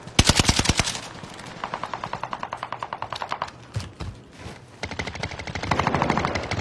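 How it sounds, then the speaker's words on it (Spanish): Rapid bursts of automatic gunfire in a shooting video game, loud, close and sharply rhythmic, broken by a short pause and a few single shots before another sustained volley. "Están disparando."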